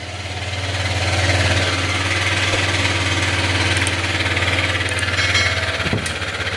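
A scooter engine with a fault idles steadily with a rough, grinding rattle running through it, close and continuous without pause.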